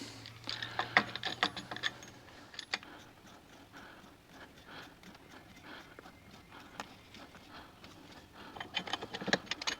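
A brake caliper tool is ratcheted to push Holden Commodore front brake pistons back in, giving irregular clicking, clanking metal taps and scrapes at close range over a quiet workshop background.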